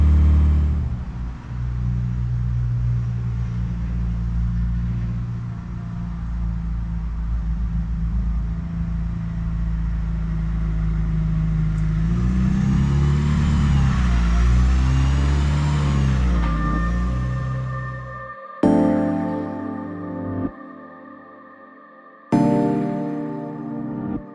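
A Mitsubishi Evo 8 in broken condition rumbles steadily at idle as it is driven into a garage, its engine rising in a louder revving surge midway, then cutting off abruptly before brief restarts; no talking.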